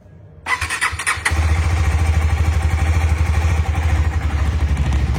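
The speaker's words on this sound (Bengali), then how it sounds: "বাইকটা কোল্ড স্টার্ট হোক" A motorcycle engine cold starts with a short cranking clatter, then catches and settles into a loud, steady, close idle that keeps running.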